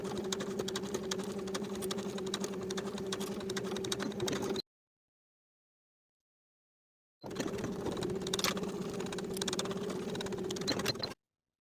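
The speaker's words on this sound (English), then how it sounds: "Sew over the fold to the outer edge of the facing." Sewing machine stitching a lined vest's facing to the front piece, a steady mechanical hum with rapid needle ticking in two runs of about four seconds each, separated by a short pause.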